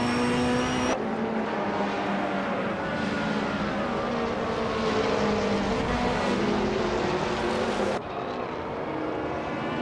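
A 1994 Ford Mustang Cobra racing engine drones steadily and loudly, holding a sustained roar with shifting pitch through a race, with a brief change in tone near the start and again toward the end.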